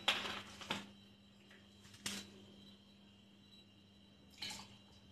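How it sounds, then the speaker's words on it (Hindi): Soda poured into a glass while making masala shikanji, heard as a few short, faint splashing bursts with quiet gaps between them, close by and with no talk. "और दूसरे ग्लास में मैं सोडा डाल रही हूं।"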